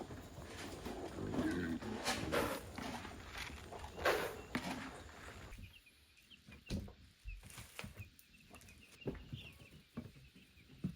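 Cornish Cross broiler chickens on a small farm cluck and squawk at morning feeding time, a dense, noisy flock close by at first, then thinning into scattered individual calls.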